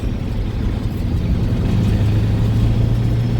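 A CAT-powered truck engine revs up steadily while a gear is floated down without the clutch, a loud, close, continuous mid-low drone that swells and holds a rising tone.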